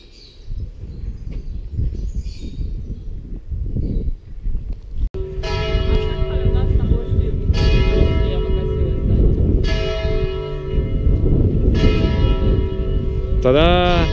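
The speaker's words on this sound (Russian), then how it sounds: "он 11 раз как раз фигачит, сейчас будет в колокол" A church bell in a quiet street of Béziers, France strikes the hour in slow, evenly spaced, ringing tolls that sound loud and resonant, after a stretch of soft outdoor ambience with faint birdsong.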